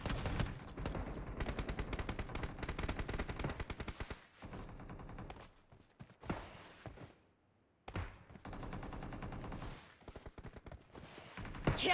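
Gunfire in PUBG Mobile, with loud bursts of rapid automatic shots broken by short pauses and a quieter stretch before the firing picks up again. No one talks over it.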